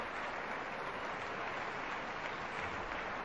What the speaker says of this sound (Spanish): Con los aplausos que llegan a la audiencia de Radio Clásica.